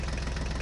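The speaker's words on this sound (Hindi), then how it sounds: "ये देखो ट्रैक्टर ऊपर चढ़ेगा" A toy tractor's small motor drones steadily as it climbs up a slope, a rapid low pulsing hum that is close and loud, with no one talking over it.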